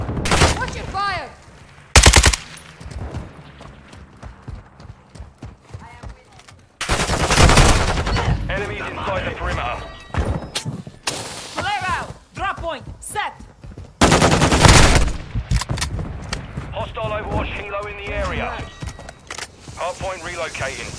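Kastov 762 rifle fire in Modern Warfare 2 Hardpoint on Punta Mar, loud rapid automatic bursts in several long strings with pauses between, close and sharp, alongside footsteps and game voice lines.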